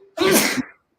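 One loud, close sneeze lasting about half a second, sharp onset and breathy fade, alone with no talk.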